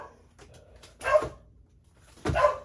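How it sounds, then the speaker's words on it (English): Two loud, close dog barks spaced about a second apart, with a quiet indoor room between them. "And there are my dogs."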